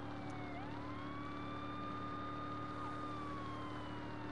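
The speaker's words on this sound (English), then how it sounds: "Only thing is, I gotta listen to the siren." Police car siren in the Saints Row video game, a steady wailing tone rising and falling slowly, heard alone over the low hum of the game car's engine, fairly loud and continuous throughout.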